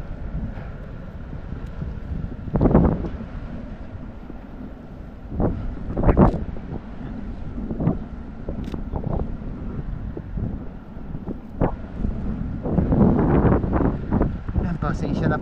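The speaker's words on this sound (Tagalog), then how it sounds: "pasensya na po sa hangin" Strong sea wind blasts into the microphone, a constant low rumble broken by repeated louder gusts that swell and fade throughout.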